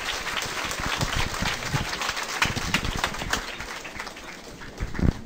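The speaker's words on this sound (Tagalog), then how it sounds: "Grabe, milyon-milyon palakpak para kay Jed" An audience at a business seminar applauds, dense clapping that swells and then gradually thins out toward the end.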